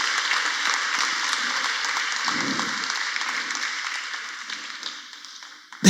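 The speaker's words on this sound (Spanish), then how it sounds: "Vamos, dale un aplauso al Rey de Reyes y al Señor de Señores." Church congregation at Templo El Salvador applauding, a steady wash of many hands clapping that fades toward the end.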